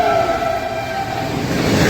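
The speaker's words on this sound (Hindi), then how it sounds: "अमृतसर चंडीगढ़ इंटरसिटी एक्सप्रेस, देखिए गाड़ी।" An Amritsar–Chandigarh Intercity Express train rolls past at close range, a loud, steady rumble and clatter of wheels with a sustained horn-like tone running through the whole stretch.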